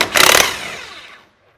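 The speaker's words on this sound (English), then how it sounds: "I'm going to take an electric impact with a 15/16 socket" An electric impact wrench with a 15/16 socket hammers at a retainer nut on a 6.0L Powerstroke high-pressure rail, giving a short, loud rattling burst that winds down into a fading whir and then silence.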